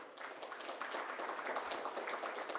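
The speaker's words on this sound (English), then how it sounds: "Please, ladies and gentlemen, give a big round of applause for Mr." Faint, steady applause from a seated audience at a cybersecurity leaders' conference panel, many hands clapping in an even wash for a few seconds without speech.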